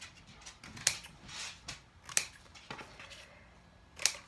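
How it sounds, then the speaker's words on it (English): Small scissors snip embroidery floss in three crisp, close cuts spread a second or two apart, with soft handling rustles between them in a quiet room. "I'm just going to snip these real fast"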